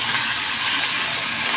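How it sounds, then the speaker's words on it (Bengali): Potatoes frying in a pan for a pumpkin and chickpea dish give a steady, close, broadband sizzling hiss that holds evenly from start to finish with no talking. "আলুগুলো আমি ভালো করে ভেজে"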